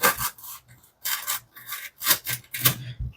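Harnds folding knife, unsharpened and straight out of the box, sawing through tough material: repeated rasping, rubbing strokes in uneven bursts, close and fairly loud, with no talk over them.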